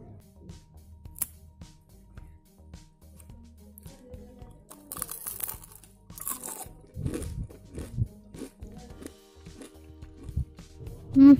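Crispy homemade fried tofu chips bitten and chewed up close, irregular crunches and crackling bites spread over several seconds, quiet between chews and growing busier later.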